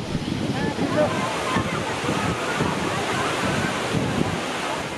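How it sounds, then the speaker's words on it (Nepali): Chhahara waterfall at Budar in Jorayal rural municipality, Nepal, gives a steady, loud, continuous broadband rush of falling water that holds without pause, with no voices over it. "यो हो जोरायल गाउँपालिका 2 बुडरमा रहेको छहरा झरना।"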